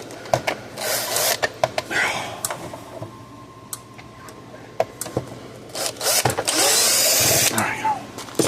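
A power drill works screws out of the plastic case of a Parmak Mark 8 fence charger, in short bursts of whirring with a longer sustained run near the end, close by with brief talk between.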